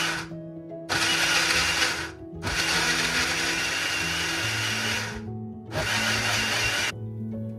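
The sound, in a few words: mixer grinder blending ridge gourd with green chillies and water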